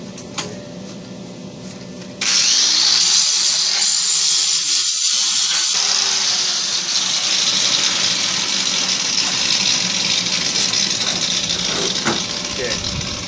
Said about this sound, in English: So I have to grind this off because I want to paint this black again.